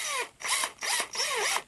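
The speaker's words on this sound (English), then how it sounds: "So now you can drill either into this one or into this one if you want." A power drill drives a screw into the wood of a raised garden bed in three pulsed bursts, each whirring spurt rising and falling in pitch with short pauses between, close and fairly loud with no talking.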